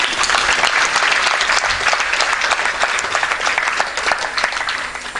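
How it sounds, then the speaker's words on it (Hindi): An audience breaks into loud, sustained applause, dense clapping from many hands filling a hall at steady volume throughout, with no voices standing out. "ये एक्चुअली ताली बजाने का टाइम था।"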